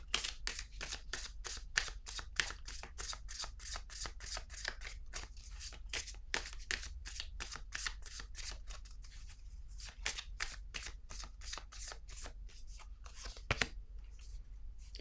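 Cards are shuffled again and again for a card reading, with crisp riffling bursts in a quick, regular rhythm, close and fairly quiet, and nobody talking.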